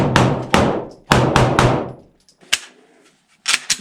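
A Glock 9mm pistol fires at a KA-BAR USMC fighting knife, giving several sharp, loud cracks with ringing decay, a few in quick succession and then fainter, isolated reports.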